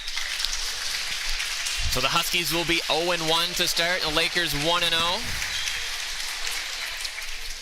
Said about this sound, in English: give a little round of applause to each other for a good game